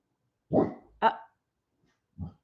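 Dogs bark three times, close and sharp, with two quick barks followed by a single softer one after a pause, against a quiet background.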